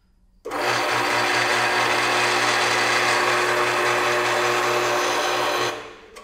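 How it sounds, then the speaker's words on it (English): A drill press in an automotive workshop runs continuously at steady speed, a loud close whine and hum, measured around 91 decibels, that starts abruptly and holds for several seconds before shutting off. "Put it next to this drill press."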